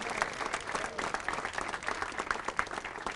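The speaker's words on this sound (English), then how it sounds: "Give him a round of applause." A crowd applauds Councilman Stenziano at the neighborhood reunion and grand reopening of the Driving Park Community Center. The clapping is steady and dense, holds at an even, moderate level and is slightly distant, with sharper individual claps standing out.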